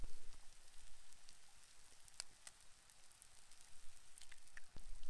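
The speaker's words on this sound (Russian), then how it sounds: "Разбиваем яйца в заранее приготовленном углублении в шакшуке." Eggs cracked into sizzling shakshuka in a pan, a soft continuous frying hiss with scattered faint pops and crackles, quiet and close, no talk.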